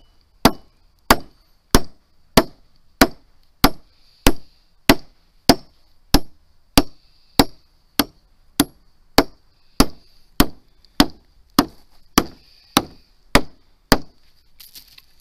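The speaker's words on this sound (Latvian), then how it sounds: "To nostiprināšanu mēs veicam ar 2 kilogramīgu āmuru." A 2 kg hammer drives nail plates into a wooden roof truss, about twenty-three sharp, evenly spaced blows at a steady rhythm, loud and close with quiet gaps between strikes.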